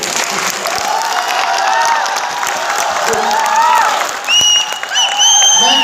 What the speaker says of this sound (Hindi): ताली बजा के बता दीजिए